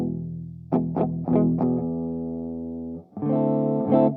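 A Gibson ES-339 electric guitar played on its neck pickup through effects, with a handful of plucked notes and chords ringing out warm and close, then a fresh strum near the end.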